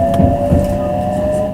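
A Japanese limited express train pulls away from a station with a steady electric whine and low rumble, some brief clunks near the start, then a smooth, continuous drone.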